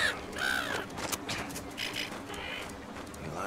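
A crow in the video game Wolfenstein II: The New Colossus gives several loud, harsh caws over a steady game ambience, one caw after another.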